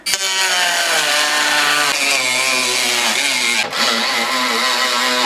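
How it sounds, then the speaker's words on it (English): Dremel rotary tool trimming a plastic bumper on a Jeep WJ, a loud, close, high-pitched whine whose pitch dips and rises as the cutter bites, continuous with a couple of brief breaks and no talking. "Our next step is going to be to trim the bumper, and then we're good to go. So let's get the Dremel and get to cutting."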